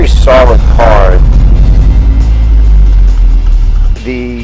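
A 1967 Sunbeam with a 1725 cc engine roars loudly and steadily at close range. A voice briefly sounds over it near the start and again at the end as the engine note drops.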